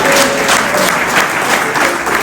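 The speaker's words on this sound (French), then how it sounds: "Je vous demande encore de les applaudir" Audience at a ceremony honouring golden-anniversary couples gives a sustained, dense round of applause, steady and loud throughout with no voices over it.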